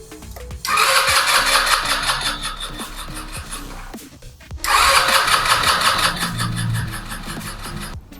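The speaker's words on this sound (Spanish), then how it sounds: "si le damos arranque, debería de prender" An Italika DS150 motor scooter's starter cranks in two long bursts, each a whirring grind of several seconds separated by a short pause, and the engine never catches.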